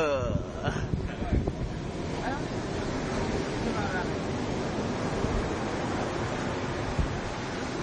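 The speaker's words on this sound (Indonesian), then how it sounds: "Ombak." Big ocean waves at Bajul Mati beach, a broad continuous roar of surf with wind buffeting the microphone, plus brief voices near the start.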